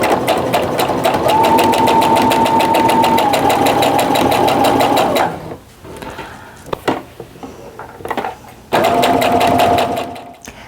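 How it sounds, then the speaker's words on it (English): A sewing machine runs steadily for about five seconds while stitching the outside corners of a quilt block, stops amid quiet handling noises, then starts up again near the end. "first I'm just going to focus on sewing my outside corners"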